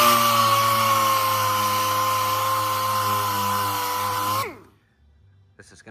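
A power sander works over the cowl of a 1932 Ford body with 120-grit sandpaper, a loud steady whine that runs for about four and a half seconds, then spins down and stops, leaving near silence with a few faint clicks.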